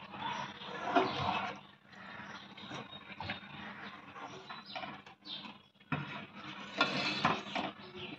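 Milk is stirred in a pot for rice kheer to break up lumps: close, irregular scraping and clinking of a spoon against metal, with sloshing bursts and no talk.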